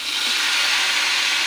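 Steady, loud hiss of boiled dal frying in a hot pan, a continuous broadband sizzle that holds without pause, close up and with no talking.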